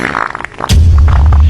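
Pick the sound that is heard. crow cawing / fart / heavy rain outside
fart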